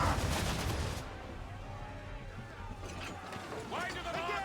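A volley of musket fire in the Assassin's Creed III video game, a loud burst of shots at the start fading into battlefield ambience, with shouted voices over the noise.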